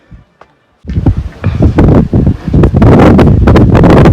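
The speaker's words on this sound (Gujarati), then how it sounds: "ઠંડી ઠંડી હવા આવે હે" Cool wind on Girnar mountain rushes steadily into the microphone in loud, buffeting gusts after a brief quiet start, a rough roaring blow with no talking.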